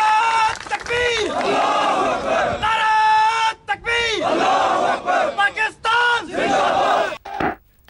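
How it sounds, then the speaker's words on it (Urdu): Soldiers chant Pakistan Zindabad slogans in unison after a Fatah-IV cruise missile test, a group shouting loud rhythmic call-and-response bursts with short pauses between, outdoors and close. "پاک فوج کے جوانوں کی جانب سے پاکستان زندہ باد کے نعرے بھی لگائے گئے ہیں"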